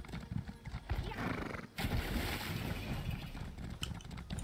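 A horse gallops and neighs in the video game ESO: Morrowind, its hooves clattering steadily with a whinny rising over the rush of wind or water, loud and close, without any talk.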